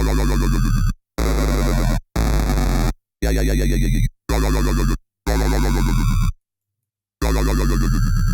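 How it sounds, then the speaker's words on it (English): Heavily distorted, gritty synth bass with downsample distortion and changing drive, buzzy vocal-like growl, played in short bursts separated by gaps, the tone shifting from note to note. "So you can hear how changing the drive here changes the quality, the vocal-like quality of the sound."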